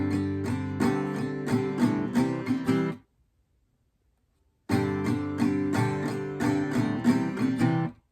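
An acoustic guitar plays the final block of a song's intro, a run of rhythmic strummed chords up close, a silent pause of about two seconds, then the chord pattern returns just as loudly.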